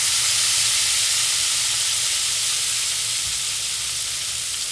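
Scallops sear in a hot pan with lemon juice added, giving a loud, steady, unbroken sizzle with no voice over it.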